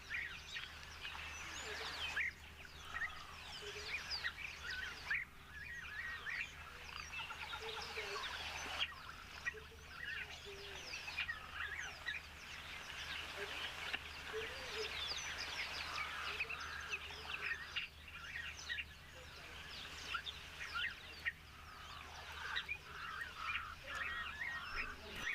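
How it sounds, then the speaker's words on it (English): Crows calling raucously outdoors in a peaceful natural setting, a busy, continuous chorus of overlapping caws and squawks from several birds at moderate distance, with no talk and a steady low hum underneath. "the crows are quite entertaining when you actually listen to the crows going crazy"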